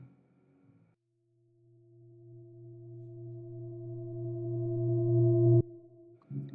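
Soft, pitched low tone from a music production, a steady smooth hum that swells gradually louder over several seconds before cutting off abruptly, heard alone.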